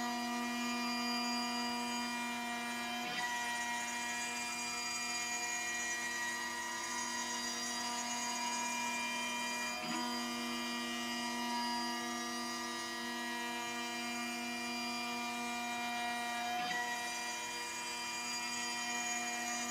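A CNC mill running a finishing pass on wood and delrin gives a steady, tonal whine with a constant hum. Faint periodic ticks recur every few seconds as the cutter sweeps.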